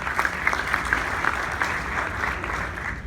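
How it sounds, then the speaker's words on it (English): An audience in a meeting room gives a brief round of applause, steady overlapping claps at moderate volume with a few sharper hand strikes. "so a round of applause for everybody here in the room."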